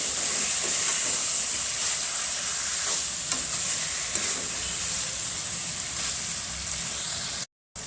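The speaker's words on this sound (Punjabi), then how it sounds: "ਹੁਣ ਅਸੀਂ ਮਟਰ ਪਾ ਦਵਾਂਗੇ ਮਟਰਾਂ ਨੂੰ ਵੀ ਇਹਨੂੰ ਮਿਕਸ ਕਰ ਦੇਵਾਂਗੇ" Peas being stirred into potatoes and cabbage frying in a pan give a steady, close sizzle with continuous scraping and stirring, no voices, ending in a brief dropout near the end.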